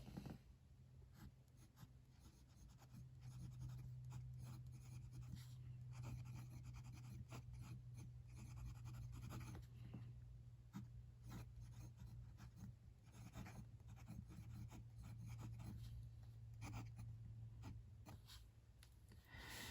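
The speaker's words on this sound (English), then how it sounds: "Time for a writing sample on my regular Clairefontaine 90-gram paper." A Karas Decograph AL fountain pen with a fine steel nib, loaded with black ink, scratches softly across 90-gram Clairefontaine paper. The faint, close strokes come in short bursts and pauses, with no voices.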